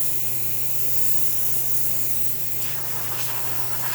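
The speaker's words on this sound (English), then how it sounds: "Steam working perfectly fine as well." A steady, loud steam hiss sprays continuously from the steam wand of a La Pavoni espresso machine, with a low mechanical hum beneath and a slight shift in texture partway through.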